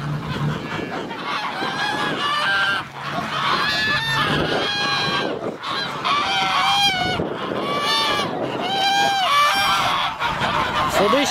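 A flock of geese in a village honks loudly and continuously, overlapping calls in a dense, busy chorus with a few faint voices mixed in.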